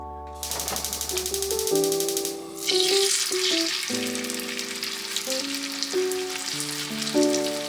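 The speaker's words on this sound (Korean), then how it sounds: "이제 팬에 오일 두르고 노릇노릇 부치면 돼요." Zucchini and pollock roe pancakes fry in oil in a pan, giving a steady, close sizzle that runs throughout beneath background music.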